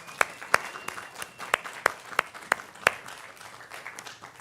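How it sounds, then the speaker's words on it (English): Sparse clapping at a Shabbat service honoring quinquennial couples, roughly eight distinct sharp claps at a steady rhythm over a quiet room tone. "Let's give our quinquennial folk a round of applause"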